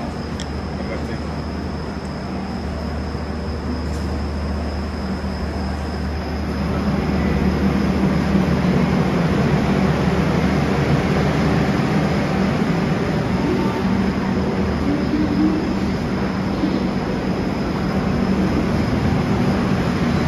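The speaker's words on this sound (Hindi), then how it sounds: "departure of Gorakhpur Panvel express" The Gorakhpur Panvel Express pulls out of a station with a continuous loud rumble of wheels and carriages. The noise thickens and grows slightly heavier partway through, and a faint high whine runs above it.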